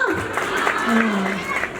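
An audience claps steadily, a mid-level wash of many hands, while people talk over it.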